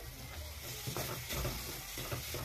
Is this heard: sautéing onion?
yes